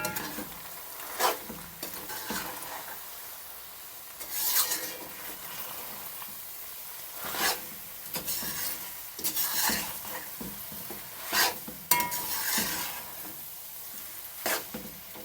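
A spoon stirs macaroni and frankfurter in a pot over low sizzling, with periodic louder scraping strokes against the metal every few seconds, close and otherwise quiet.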